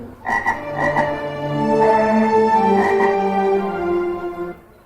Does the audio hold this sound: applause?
no